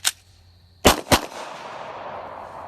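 Gunshots caught on a trail camera at night: one sharp crack, then two more in quick succession, their echoes trailing off into a lingering noisy decay.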